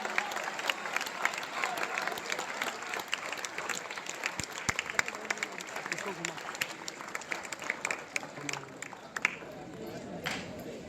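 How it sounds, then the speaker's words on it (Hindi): Audience applause welcoming a guest at a youth interaction event on One Nation, One Election in Bhopal: dense, steady clapping from a crowd filling the whole stretch, with voices mixed in beneath it. "जरा जोरदार ताली बजाकर आप सब भी मामा जी का स्वागत करिए"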